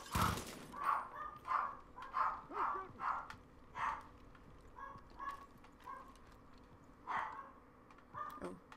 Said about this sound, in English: Ignore my dog's barking.